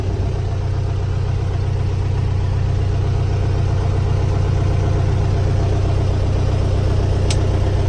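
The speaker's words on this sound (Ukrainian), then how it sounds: "Заводиться гарно, працює мотор гарно, рівномірно, без зауважень." A 2021 MTZ tractor's diesel engine running evenly, a steady rhythmic low chugging throb that stays close and loud without a break, with no one speaking over it.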